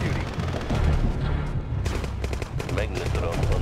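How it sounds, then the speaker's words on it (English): Explosions and rapid gunfire from a battle in the real-time strategy video game Mental Omega, a loud, continuous barrage of blasts and shots, with game voice lines over the fighting. "I love the sound of explosions in the distance."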